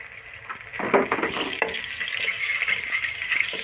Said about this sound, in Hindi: 1 सेकंड के लिए इसे करेंगे फ्राई।